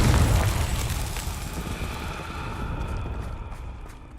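A Confringo blasting spell from the Hogwarts Legacy video game bursts with a heavy boom that fades into a rumbling, crackling tail of debris and fire.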